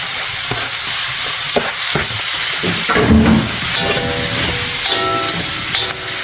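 Shredded carrots and cabbage stir-fried in a hot pan for pancit miki guisado, loud continuous sizzling with scraping spatula strokes and clatter, no speech.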